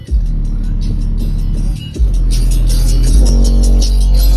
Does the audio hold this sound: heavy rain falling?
no